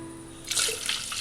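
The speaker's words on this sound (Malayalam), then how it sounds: "വെള്ളം ഒഴിക്കുന്നതനുസരിച്ചിട്ട് ഇതൊന്ന് ഇളക്കി കൊടുക്കണം കേട്ടോ" Water splashes briefly into rice batter for neer dosa, a short close pour starting halfway through after a quiet moment, with no talk.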